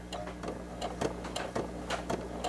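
Sewing machine stitching a fabric face mask makes quick, rhythmic ticking clatters at close range, fairly quiet and steady.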